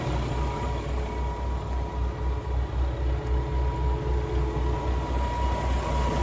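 A 2014 Peterbilt 579 truck with a Cummins-type MX13 455 diesel engine idles steadily nearby, a low continuous rumble with a faint pulsing throb and no talk over it.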